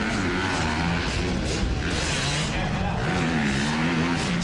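A Yamaha two-stroke motocross bike racing past at a motocross race, a loud raspy engine snarl with pitch wavering as it passes, heard under a race commentator talking continuously.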